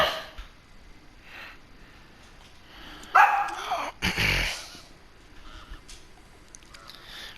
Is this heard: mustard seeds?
no